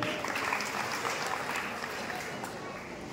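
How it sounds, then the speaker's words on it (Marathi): Audience applauding at a Lohar community gathering, a steady dense wash of clapping held at an even level for a few seconds, with crowd murmur mixed in. "एकदा जोरदार टाळी त्यांच्यासाठी"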